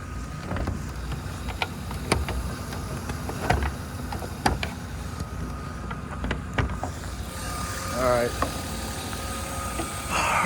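A 1998 BMW 323is E36 idles smoothly with a steady, even engine hum. A person talks over it, and a few sharp clicks and thumps break in near the car.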